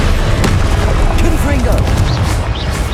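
Spell explosions from the Confringo blasting curse in Hogwarts Legacy boom continuously in a dense, loud barrage of rumbling blasts and crackles, with a voice speaking briefly over the din.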